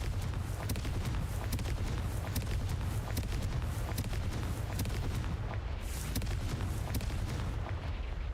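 A Confringo fire spell in the video game Hogwarts Legacy blasting over and over, a dense run of booming, gunfire-like explosions going on without a break, loud and close, with no talk.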